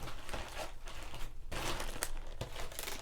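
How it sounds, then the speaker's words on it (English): Cards are pulled out of plastic bags at close range, the thin plastic crinkling and rustling continuously with a few sharper tearing crackles and brief pauses. "I'm taking these all out of plastic bags, that's why it's taking forever."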